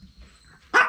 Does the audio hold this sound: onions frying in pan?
no